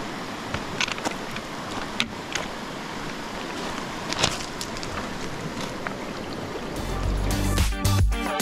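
A clear mountain stream below the Zugspitze flows with a steady rushing and gurgling hiss, close and continuous, swelling into a louder, rougher surge near the end.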